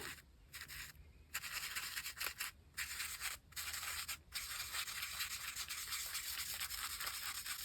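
A sponge dabbed and rubbed against paper to build a grungy texture in a calendar journal, giving close, steady scratchy rubbing with a few short pauses between strokes.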